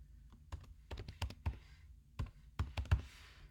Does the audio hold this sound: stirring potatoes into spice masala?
no